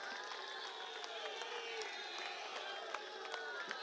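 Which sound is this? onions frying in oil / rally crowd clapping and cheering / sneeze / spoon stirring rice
rally crowd clapping and cheering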